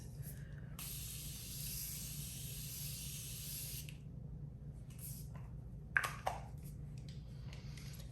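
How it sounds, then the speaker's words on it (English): A Morphe Continuous Setting Mist sprays in one long, steady hiss lasting about three seconds, close to the microphone, followed by a few faint handling clicks and brief rustles. "Morphe Continuous Setting Mist."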